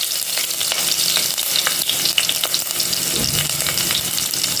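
Mustard seeds, chopped garlic and ginger frying in oil in a pan, a dense, loud hiss and sizzle with scattered pops and faint utensil taps, steady and close throughout without voices.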